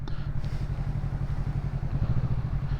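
A Kawasaki Z650 motorcycle being ridden on a road, its engine giving a steady, close low-pitched drone with a throbbing pulse throughout and no one speaking.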